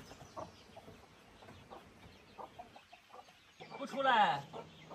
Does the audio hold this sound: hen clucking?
yes